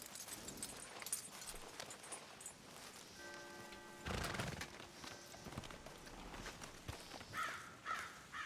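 Sparse clopping horse hoofbeats sound on hard ground by a road amid faint street noise, with a passing tonal whine and distant crow caws.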